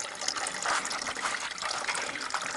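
Coolant pours out of a VAZ engine during cylinder head removal, a steady gushing, splashing stream close by and fairly loud, without speech.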